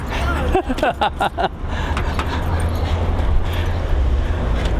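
Several short dog barks and yips sound close by at the start from dogs riding in a car trunk, then give way to a steady engine rumble from the moving vehicle.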